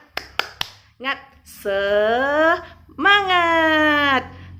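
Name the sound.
rhythmic 'tepuk semangat' clapping chant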